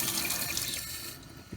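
Steady running water pours from a tap in a motorhome, a continuous broadband rush filling the whole clip with no talk, easing slightly toward the end.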